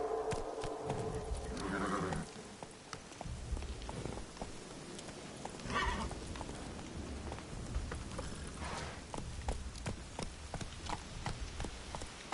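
A horse in The Witcher 3 video game whinnies loudly at the start, then hooves clip-clop in a quick, steady rhythm over a soft patter of rain, with another neigh in the middle.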